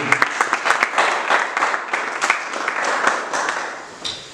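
Church congregation clapping in lively, uneven applause, a dense patter of many hands at moderate distance lasting a few seconds before easing off.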